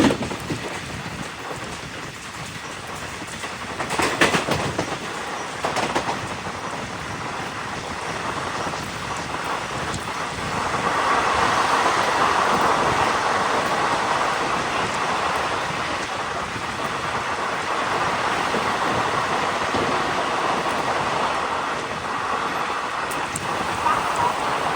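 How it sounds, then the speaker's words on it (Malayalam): A Jabalpur–Coimbatore special passenger train runs on rails near Payyanur as it overtakes the Malabar Express, giving a steady, loud, broadband rushing rumble mixed with wind noise throughout, with no talking. "ഇപ്പോൾ നമ്മുടെ സ്പെഷ്യൽ ട്രെയിൻ ഇപ്പോൾ മലബാർ എക്സ്പ്രസ്സിനെ ഓവർടേക്ക് അടിക്കാൻ പോവാണ്"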